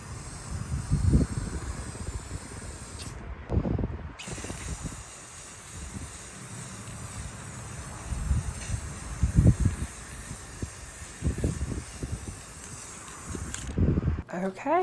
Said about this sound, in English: spray this whole thing real quick, get a coat on it